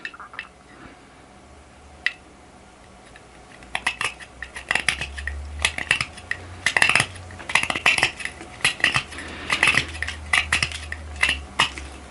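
A K390 or S110V steel knife cuts through pork rib bone, with close, irregular crunching snaps and wet squishing in busy clusters after a quieter start, no talk.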